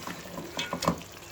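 Chicken lollipops frying in a pan for drums of heaven, a steady soft sizzle with a few crackling pops and spatters, no talking.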